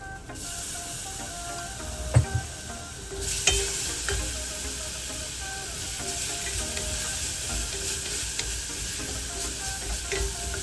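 Shallots and garlic saute in a pot for clam chowder with a continuous dense sizzle and hiss. A few utensil knocks land early and again midway, and there is no talk.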